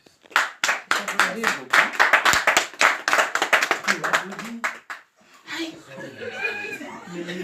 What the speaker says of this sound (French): Aujourd'hui, Fraternité Belgique a exactement 1 an. Donc, on applaudit un peu.